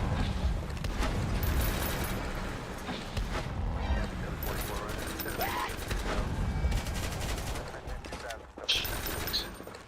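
Heavy gunners firing machine guns in a Roblox combat game, dense rattling bursts and mechanical clatter layered under continuous talking, busy and loud throughout.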